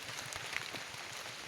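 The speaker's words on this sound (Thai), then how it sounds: "ฝนตกพี่น้อง" Rain falling outdoors under a darkening sky, a soft, steady hiss with faint scattered patters throughout, no voices.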